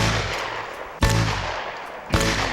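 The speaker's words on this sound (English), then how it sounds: "so we do trap shooting" Shotgun blasts ring out at an outdoor trap shooting range ringed by woods and a high bank. Two loud, sharp reports are spaced about a second apart, and each one trails a short echoing decay over a steady low background hum.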